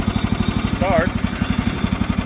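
A frontier sawmill engine runs with a fast, regular low chugging pulse close by, while a voice briefly speaks over it.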